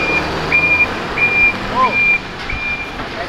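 Steady high-pitched reversing beeps from a water tanker truck repeat at an even rhythm over a rumbling truck engine, with faint voices in the background.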